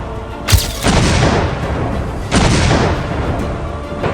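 Artillery guns fire near the Kashmir line of control, two heavy booms about two seconds apart, each followed by a long rumbling roar and crackle.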